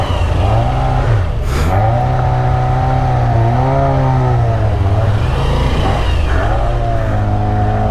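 Engine of a Moto Guzzi V7 Special motorcycle revving loudly and close, holding a steady throaty note with a couple of dips and climbs in pitch; no talk.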